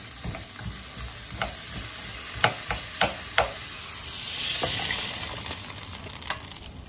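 Ingredients for xà bần, the Tết mixed-vegetable stew of the Mekong Delta, are stir-fried in a pot with a steady sizzle, broken by sharp scraping and clinking strokes of a spatula against the pot.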